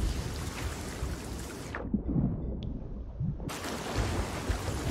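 Lightning strikes a ship at sea in a pirate video game: a loud thunder crack and rumble rolls in over steady storm rain and wind, which briefly drops out before the downpour returns.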